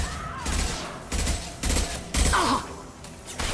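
Bursts of automatic gunfire in Mass Effect 2, four or five heavy rattling volleys in quick succession with short gaps between them, close and loud, a brief voice cutting in among them.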